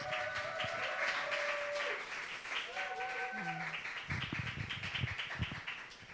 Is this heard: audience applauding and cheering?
yes